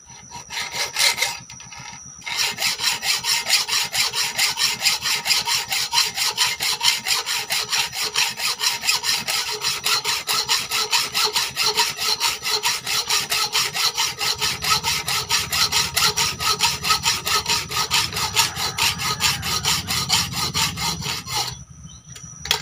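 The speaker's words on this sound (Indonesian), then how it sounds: "Kita akan mempraktekkan alat yang pertama, yaitu gergaji besi" A hacksaw cuts through iron in a steady back-and-forth rhythm of loud, rasping strokes. Sawing runs continuously after a short pause near the start and stops abruptly at the end, close and alone with no talk.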